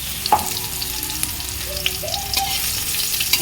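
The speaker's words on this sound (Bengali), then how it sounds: "এইবারে আমগুলো খুব ভালো করে ভেজে নিচ্ছি" Mango pieces frying in hot mustard oil give a steady broadband sizzle with occasional pops and faint clinks, moderately close and without voices.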